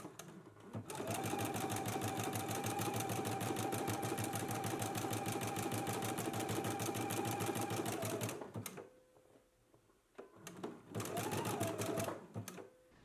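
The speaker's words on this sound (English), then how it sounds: "I'm going to do a zigzag stitch over the threads." A sewing machine runs a zigzag stitch over threads to form a thread chain, its fast, even needle clatter continuing for about eight seconds, then stopping and restarting in two short bursts.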